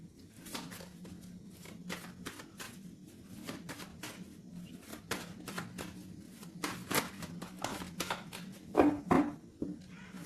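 A tarot deck is cut and shuffled close up, with quick papery riffles and soft card slaps in a steady series, faint and unaccompanied by talk.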